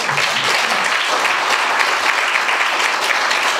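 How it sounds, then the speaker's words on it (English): Audience applause at a panel debate in London, steady dense clapping from a crowd throughout, loud and even with no voices over it. "I would like to ask for applause for our..."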